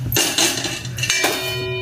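A metal cooking pot clanks and clinks as it is lifted and carried indoors, giving a few close, bright metallic knocks in quick succession.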